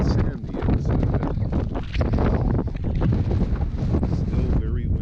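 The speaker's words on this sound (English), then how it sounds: "Still very windy." Strong, roaring wind buffets the microphone continuously, with heavy low rumble and gusty bursts throughout.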